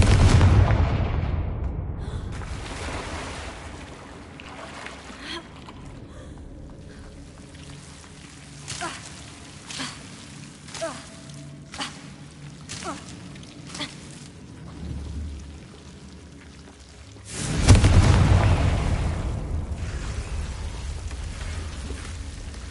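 A Confringo fire spell bursts in the Hogwarts video game, a sharp blast at the start, then scattered crackles and debris, and a second loud eruption near the end.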